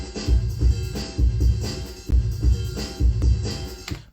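A sampled drum break plays at 132 BPM, with a punchy looping pattern of heavy kicks and crisp snares and hats repeating in tight, even bars, loud and alone.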